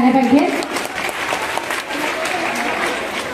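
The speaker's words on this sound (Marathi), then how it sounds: "तर या दोघांसाठी एकदा नक्की जोरदार टाळ्या झाल्या पाहिजेत" An audience at a women's Home Minister game-show event claps together for the organisers, a steady dense applause close by, with a voice speaking over the start.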